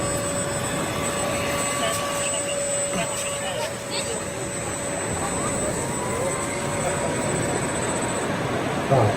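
An RC model airplane flies overhead, a steady loud engine or motor drone with a high whine holding throughout, set against outdoor background noise and chatter.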